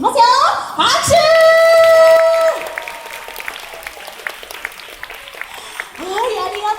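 Applause at a character PR stage show at the Funabashi market, starting under an amplified voice and sustained musical tones, then continuing as lighter scattered clapping before another voice returns.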